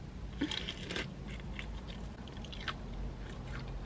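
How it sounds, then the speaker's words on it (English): Crispy KFC Nashville hot chicken tenders get bitten and chewed close up, with a sharp crunchy bite followed by several quieter crunching chews, no talk. "this is by far the crispiest chicken I think I've ever had"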